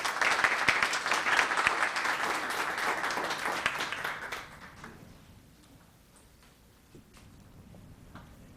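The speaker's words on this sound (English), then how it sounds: "Round of applause, another one" Applause fills a town council chamber at a meeting just after the Pledge of Allegiance, steady for about four seconds, then fading out to a few scattered claps over quiet room tone.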